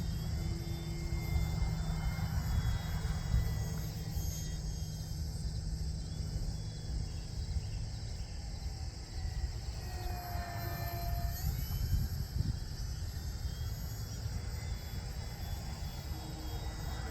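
A Flatabria RC model airplane flies at a distance, its steady motor drone holding through the clip beside a continuous insect-like chirr, with no talk.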